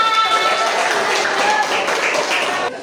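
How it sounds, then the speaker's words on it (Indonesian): A classroom crowd claps together in steady, dense applause that holds for a few seconds before tapering off near the end. "Oke, tepuk tangan untuk kita semua"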